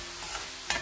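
Rice rava upma ingredients fry with turmeric and salt in a pan, giving a soft steady sizzle broken by a couple of quick scraping stirs, heard close up with no talking.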